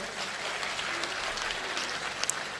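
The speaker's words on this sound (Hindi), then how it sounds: "आपने जो तालियां बजाई हैं" Audience at a mushaira clapping, a fairly soft, dense patter of applause spread evenly through the hall, with a few sharper claps near the end.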